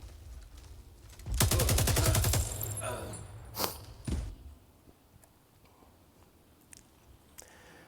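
Rapid automatic gunfire in The Division 2 as enemies are shot, a loud sustained burst followed by a few single shots and impacts, then quieter game ambience.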